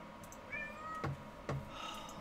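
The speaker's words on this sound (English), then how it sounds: "my cat likes to start crying" A pet cat meows indoors, with two or three short, close cries in a row and a soft knock between them, against quiet room noise.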